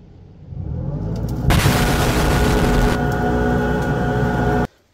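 Dust blasting out of a clogged dryer vent: a low rumbling rush builds, then bursts into a loud, sustained, hissing blast of air and debris that holds steady for seconds before cutting off abruptly.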